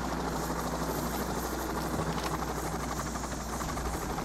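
A helicopter in a video game drones with a steady, loud rotor thrum and engine buzz, constant and close for the whole stretch.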